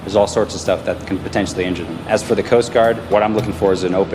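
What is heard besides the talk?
None of the usual background noises is heard.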